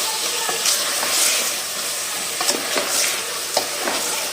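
Green chillies frying in a pan with potato and carrot for aloo gajar sabzi, a constant close sizzle broken by a handful of spatula scrapes and taps.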